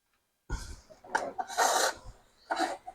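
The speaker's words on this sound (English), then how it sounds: "I see I need a little bit more filing" A hand file rasps against a part of a custom-built H17 RC hydroplane boat in several short, close strokes with brief pauses between them.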